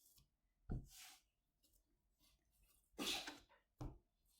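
Three short, sharp sneezes from a small animal, spaced a second or two apart, close by in an otherwise quiet room.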